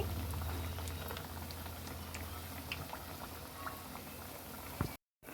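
Jaggery appalu, small sweet dough rounds dropped one at a time into hot oil, fry with a steady, dense bubbling sizzle that holds close and even throughout, with no talking.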